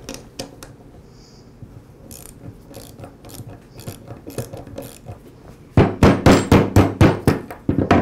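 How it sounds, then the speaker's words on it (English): A ratchet wrench loosens the clamp bolt on a Ryobi string trimmer shaft. After a few softer clicks, a loud, close run of rapid, evenly spaced ratcheting clicks comes in bursts with no talk. "Next, I'll loosen the bolt that secures the clamp to the shaft."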